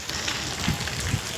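Rain falling in Surat makes a brief, steady, close patter and hiss with no one speaking.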